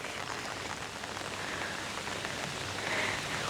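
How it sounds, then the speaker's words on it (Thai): Rain falls steadily at a hilltop viewpoint with a cable car over misty mountains in Hat Yai, a dense, even hiss of drops spattering nearby surfaces with no break. "ฝนตก"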